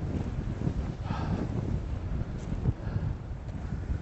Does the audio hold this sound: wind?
yes